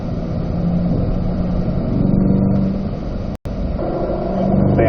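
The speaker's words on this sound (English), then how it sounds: "Stay on the gas till you turn in here, then lift off of the throttle." A Chevrolet Corvette C8 race car on a racetrack at a driving school gives a steady, droning engine note from inside the cabin that swells and eases slightly, with a brief cutout near the end.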